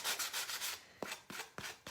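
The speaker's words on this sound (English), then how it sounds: "I'm gonna take this little sanding buff" Quiet, close rubbing strokes of a small sanding buff along the edges of a craft piece, a quick series of rhythmic scrubs followed by a few slower, separate swipes.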